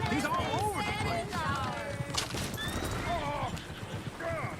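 Galloping horses pull a horse-drawn coach in Red Dead Redemption 2, rapid hoofbeats under loud shouting voices, with whinnies and squeals breaking through.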